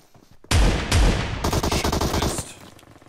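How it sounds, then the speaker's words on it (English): Shotgun blasts in a video game: two heavy, loud booms in quick succession, then a longer burst of rapid repeated gunfire that cuts off abruptly, with no talk over it. "I'm using a shotgun now"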